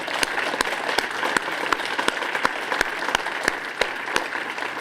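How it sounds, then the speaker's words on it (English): An audience at the unveiling of Washington DC's first urban resilience strategy applauds the resilience team, its clapping dense and sustained, with a few sharp, regularly spaced louder claps standing out over the crowd. "Let's give them a round of applause."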